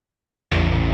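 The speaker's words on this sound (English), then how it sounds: "like a reversed power chord to fade in." A reversed power chord swells in abruptly after half a second of silence, dense and distorted, building as a transition into a metal section.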